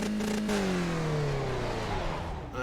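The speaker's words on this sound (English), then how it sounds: "Get the engine running again." A Skip Barber race car engine in iRacing at Road America, a loud steady drone with its pitch sliding slowly downward, then tailing off near the end.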